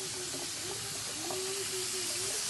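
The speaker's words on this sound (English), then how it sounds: "It's frying. I'm gonna let it get brown on one side before I flip it on the other side." Fish frying in a pan, Guyanese style, a soft steady sizzle and hiss with a faint whistling tone running through it, quiet and uninterrupted.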